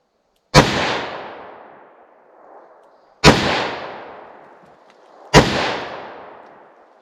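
Three sharp, loud .357 Magnum shots from a snub-nosed revolver firing Remington Golden Saber ammunition, spaced about two and a half seconds apart, each blast followed by a rolling echo.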